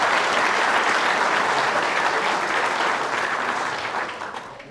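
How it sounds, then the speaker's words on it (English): A roomful of people applaud honorees for 10 years of service at a county board meeting, a thick, continuous wash of clapping that holds steady and then gradually tapers off. "Let's have a round of applause for 10 years of service"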